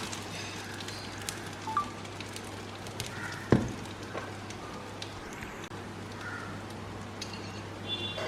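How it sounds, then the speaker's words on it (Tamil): Buns toasting in butter in a pan for a Madurai-style butter bun give a low, steady sizzle with faint crackles and one brief sharper pop midway, close and quiet throughout. "எல்லாத்தையும் ஆட் பண்ணி நல்லா பட்டரில் டோஸ்ட் பண்ணி எடுத்துருங்க 2 சைடும்"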